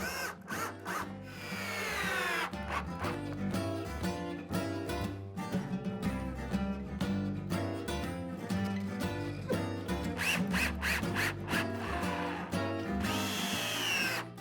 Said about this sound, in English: To complete the structural part, I insert the upper end rails and screw them in place.